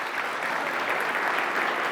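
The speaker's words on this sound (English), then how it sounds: "please give a round of applause to Mr. Alexey Zimarev." An audience at a software conference talk breaks into dense, steady applause, a continuous crowd of clapping hands filling the room.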